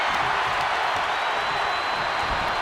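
Crowd in the WWE 2K25 wrestling video game roaring and cheering as a wrestler rallies them to their feet, a dense, steady wash of noise held throughout with no talking over it.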